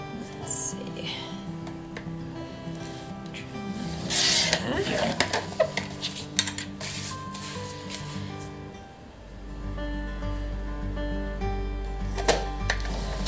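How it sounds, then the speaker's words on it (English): Paper die cuts sliced in a paper trimmer, a scraping rasp of the blade across card heard close up over steady background music, with a brief louder cutting burst in the middle. "position it in your trimmer. So I'm just going to cut across there"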